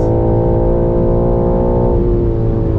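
A BMW M3 Competition accelerating hard under launch control: a loud, close, sustained engine drone with a steady tone that drops in pitch about two-thirds of the way through.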